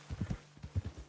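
Horse hooves clip-clop in a short irregular run in Red Dead Redemption 2, close and soft, with a faint whinny mixed in.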